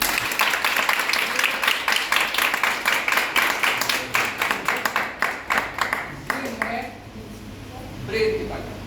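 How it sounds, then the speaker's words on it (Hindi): Seminar audience claps in quick, steady unison for about six seconds, each beat sharp and close, before the clapping fades into quieter room noise. "ये तो तालियां बजाई बेटा आपने"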